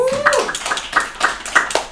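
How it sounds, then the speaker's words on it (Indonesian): A small group claps in scattered, uneven bursts on the set of a tech talk show, close by, with a voice speaking over the start. "Boleh tepuk tangannya guys."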